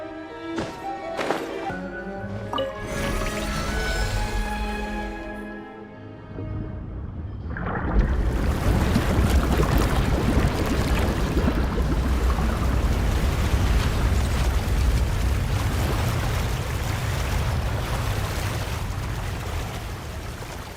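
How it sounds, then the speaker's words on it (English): Water rises inside a cave in Genshin Impact, a loud continuous rushing and churning that surges in after a few seconds of soft ringing tones and then sustains steadily to the end. "The water level is rising!"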